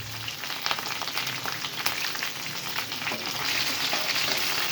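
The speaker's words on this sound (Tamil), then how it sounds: "எல்லாமே நல்லா இப்படி வதக்கிக்கலாம்" Green chillies, grated ginger and curry leaves sauté in a pan for a tomato and dates chutney, making a close, steady crackling sizzle that grows slightly louder toward the end, with no talking.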